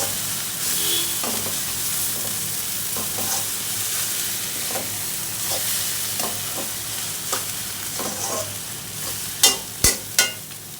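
Vegetable bhaji frying in a pan with a constant close sizzle, broken by scraping stirs of a spatula and a few sharp clanks toward the end, with no talk.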